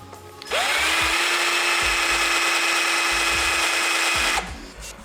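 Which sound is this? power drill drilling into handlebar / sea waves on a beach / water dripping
power drill drilling into handlebar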